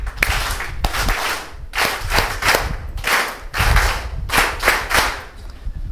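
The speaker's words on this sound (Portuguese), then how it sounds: "Uma salva de palmas bem forte para o nosso Deus." A crowd at a live political rally in Inhambane, Mozambique claps hands loudly in strong, rhythmic bursts, with several waves of unison clapping separated by brief lulls.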